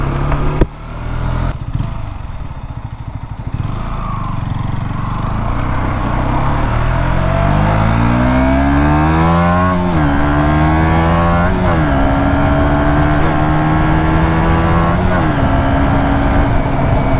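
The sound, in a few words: KTM 125 Duke motorcycle engine while riding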